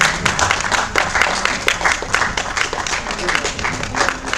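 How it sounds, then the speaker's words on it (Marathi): An audience at a poetry awards ceremony during a literary conference claps loudly, a dense, sustained round of many hands that continues throughout. "यांच्यासाठी तरी जोरात टाळ्या वाढल्या"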